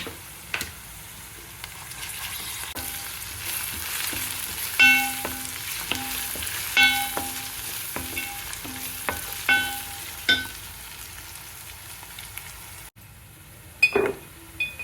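Onion pieces for a fish pulusu fry in hot oil with a soft, steady sizzle, broken by repeated scraping and clinking as a spoon stirs them around the pan, with a short pause near the end.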